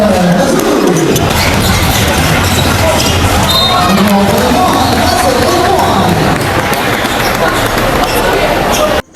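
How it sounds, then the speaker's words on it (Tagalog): A crowd at an inter-group basketball league game in Marikina, Binangonan versus RK Hoops, shouts and roars loudly and continuously, with babble and court noise mixed in and a few voices standing out. "pakinggan nyo muna yung sigaw ng crowd dito"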